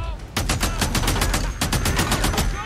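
Rapid gunfire in the video game Days Gone, a dense stream of loud, evenly spaced shots cracking over a low rumble with a brief break midway.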